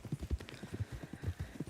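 Horse hooves clip-clop steadily in the Red Dead Redemption 2 open world, a brisk run of close, evenly spaced footfalls with no talking.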